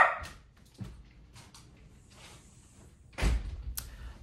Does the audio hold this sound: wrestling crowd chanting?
no